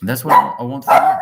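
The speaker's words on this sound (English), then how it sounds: "That's my dog here saying hi to whoever's coming at the door." A pet dog barks as someone arrives at the door, giving two short, bright yelps that overlap a person talking close by indoors.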